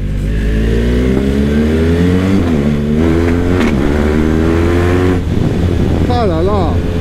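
A new motorcycle with a fast foot gear shifter revs and pulls away loudly, the engine note climbing and dropping through gears, with someone talking excitedly over it.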